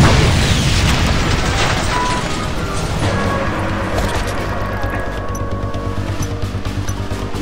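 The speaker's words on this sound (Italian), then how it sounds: "Mi lanciano le granate così a random." Grenade explosions in the video game Just Cause 2: dense, continuous booming rumble with bursts layered over a constant low roar, loud and close throughout.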